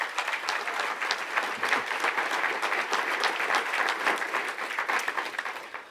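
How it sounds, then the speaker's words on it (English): A crowd at an awards show for college football assistant coaches applauds the finalists, a steady, lively wash of many hands clapping with no talk. "I think it deserves another round of applause"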